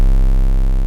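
A brief, loud, buzzing low bass tone, heavily distorted and gritty, sustained throughout without any other sound.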